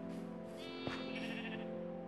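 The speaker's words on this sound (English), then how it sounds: "I got a baby sheep with difficulty" A sheep bleats in the Minecraft survival video game, a single wavering call heard close and clear over steady background game sound with no talking.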